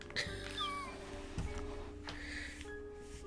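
A cat meows indoors, a short bright mew near the start followed by a brief second one, with faint room noise and light handling sounds around it.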